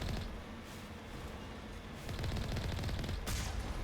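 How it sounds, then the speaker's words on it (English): Steady stream of gunfire in a video game, a continuous rattling barrage that grows louder partway through, with a sharper burst near the end. "They're shooting at me."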